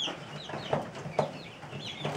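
Young chicks and laying hens cluck in a backyard coop, several soft clucks and short calls coming at irregular intervals close by, with no talking over them.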